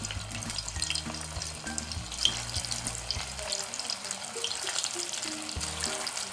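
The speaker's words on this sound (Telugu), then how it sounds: "ఇవి బాగా డీప్ ఫ్రై అవ్వాలండి. అండ్ మీడియం ఫ్లేమ్లో పెట్టుకుని ఫ్రై చేసుకోవాలి." Vegetable Manchurian balls deep frying in hot oil over a medium flame give a steady, close crackling sizzle, with a low rumble early on and no voices.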